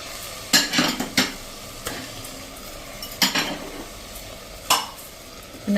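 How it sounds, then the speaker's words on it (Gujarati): Rice and lentils for khichdi go into pan-cooked vegetables and are stirred, giving a few distinct spoon scrapes and clinks over a faint, steady sizzle. "હવે આપણે જે આ ખીચડી લીધી છે ને એમાં એડ કરી દઈશું."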